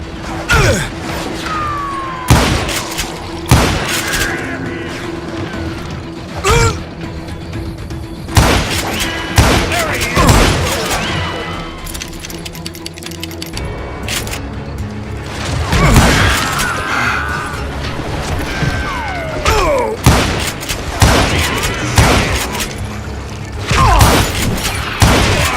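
Western shootout in the game Gunslinger, with repeated loud gunshots and thumping impacts scattered irregularly across a busy, noisy background.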